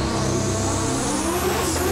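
A 2005-horsepower Lamborghini with a manual gearbox, racing in a high-stakes acceleration contest, roars steadily under load with a continuous dense engine drone and no pauses, loud and close.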